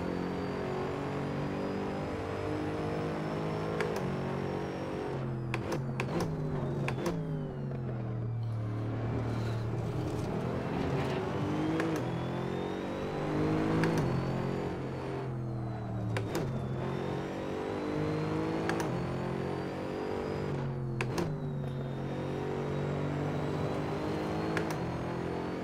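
A GT3 race car engine in Assetto Corsa at Laguna Seca roars continuously and loud, its pitch climbing and dropping repeatedly through gear changes and corners, with no talking.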